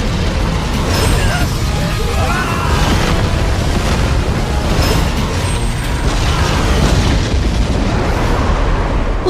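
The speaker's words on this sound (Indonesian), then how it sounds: "Ledakan yang benar-benar dahsyat, seluruh hutan terbakar menjadi abu bersama para monster anomali tersebut." A huge explosion in the animated series Soul Land 2 that burns a whole forest to ash, a dense continuous roaring rumble with crackling bursts, loud and sustained, with narration running over it.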